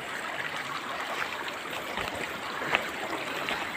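A stream flowing along a forest trail near a waterfall, giving a steady close rush and trickle of water with a few brief splashes and no voices.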